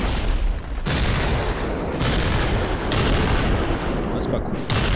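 Gunfire in the video game An Awakening: loud, dense booming shots with several sharp reports over a rumbling battle din, continuous throughout.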